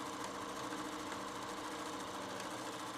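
A sewing machine runs steadily, stitching back and forth across fabric with a continuous close whirring hum that never pauses.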